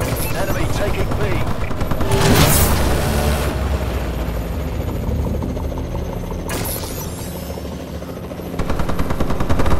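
Warbird aircraft overhead in Call of Duty: Advanced Warfare, a loud continuous rotor-like drone mixed with bursts of gunfire and game voice callouts throughout a busy hardcore domination match.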